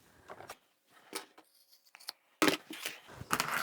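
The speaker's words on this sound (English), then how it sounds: "You can trim off the edges to make them nice and even if you want to." Scissors trimming the loose edges of a braided rope handle on a sewn market bag, a few quiet separate snips followed by a louder cluster of quick cuts close by.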